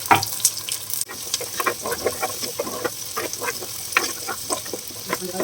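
Peeled small onions (shallots), about a quarter kilo, sautéing for a seer fish curry, with a steady close sizzle and frequent scraping, clicking stir strokes throughout and no talk.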